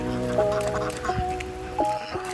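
Farm ducks on a rainy Tennessee farm give a few short nasal quacks in quick succession, close by against steady background noise.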